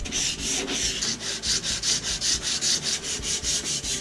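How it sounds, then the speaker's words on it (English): Steady back-and-forth rasping of 220-grit sandpaper on wood, hand sanding an old ladder, about two strokes per second, close and alone with no talking. "for the detail sanding, I'm using 220 grit sandpaper"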